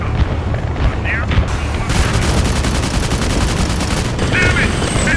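Rapid automatic gunfire in a military combat video game, a dense rattling burst that runs almost without pause, with brief radio-like tones over it.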